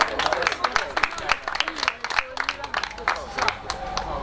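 Audience applause at a motocross award ceremony, rapid scattered clapping from a nearby crowd that keeps going steadily, with a voice briefly heard over it.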